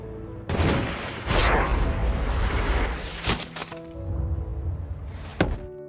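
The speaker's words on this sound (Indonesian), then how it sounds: "Pihak musuh lalu mengetahui keberadaan Chris dan terjadilah baku tembak." Gunfire exchange in the 2014 war film American Sniper, set in Iraq: a sharp burst, then several heavy booming shots and cracks at irregular intervals over a rumbling battle background, loud and close, with no talking.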